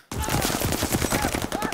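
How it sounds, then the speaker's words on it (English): Rapid suppressed automatic gunfire from Call of Duty Vanguard, a dense continuous burst of muffled shots starting abruptly and running loud and close with no pause. "I love the way the suppressed guns sound in this shit"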